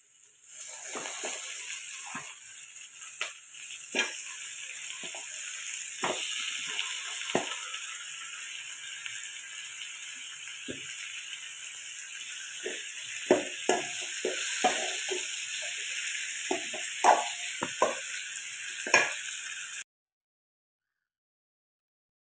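Chicken stir-fried with masala in a pan for chicken curry, heard as a steady hiss of sizzling oil with repeated scraping and clinking strokes of a spoon, close and even throughout, ending abruptly.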